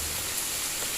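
Heavy rain pours down steadily around a pantak figure, a dense, continuous hiss that stays even and unbroken from start to finish.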